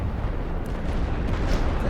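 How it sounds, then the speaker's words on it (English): Artillery barrage thundering over trenches in the World War I strategy game The Great War: Western Front, a continuous rumbling roar of distant shell bursts blending into one dense, heavy wall of low booms. "They're bringing in more artillery on me."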